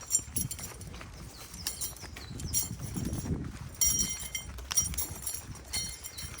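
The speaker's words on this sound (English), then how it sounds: "noise that the tether does on the ground pulling behind them" Hooves clop on the ground as a tether rope drags and scrapes behind a walking horse, a steady rustling shuffle close by.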